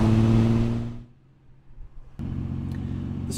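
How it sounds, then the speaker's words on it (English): A 1962 Austin Healey straight six engine, a loud close rumble that abruptly drops away into near quiet, then a lower steady engine hum returns after a sharp click. "The straight six engine has a lot of low-end torque."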